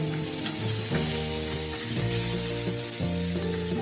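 Cauliflower frying in a pan gives a steady, dense sizzle throughout, with a tonal hum underneath; no speech.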